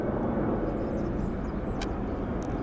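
A WestJet airliner rolls down a runway at Vancouver airport for takeoff, its jet engines giving a steady, broad roar heard from a distance and holding constant throughout.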